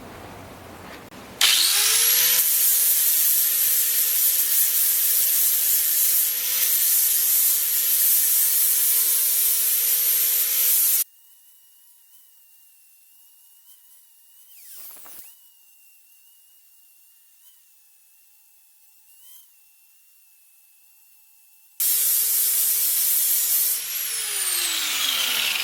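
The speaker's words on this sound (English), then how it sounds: "So right here I'm going to grind this down, smooth it out." A Diablo Steel Demon flap disc grinding down a steel piece, a loud continuous abrasive whine that runs steadily, cuts off for a quiet pause with faint rattles, then starts up again and spins down.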